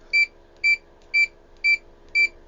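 Fluke 287 multimeter sounding its continuity beeper, five short, evenly spaced electronic beeps about half a second apart, clear and close with a faint steady hum underneath.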